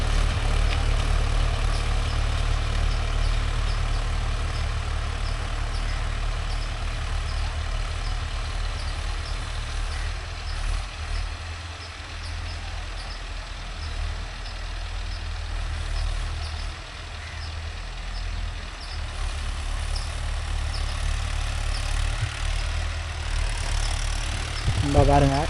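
A Mahindra Arjun Novo 605 DI tractor runs a rotavator through a field, its engine giving a loud, steady low rumble that holds throughout with little change.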